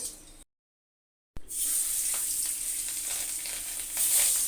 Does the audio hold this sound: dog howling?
no